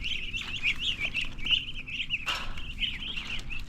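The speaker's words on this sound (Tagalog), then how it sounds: "Oh, mga sisiw pa lang eh." Native chicken chicks cheeping in a steady stream of high, overlapping peeps, close and continuous, with a brief rustle partway through.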